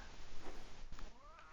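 A video game cat meows a few times, soft and somewhat distant, with short rising and falling cries over a quiet background.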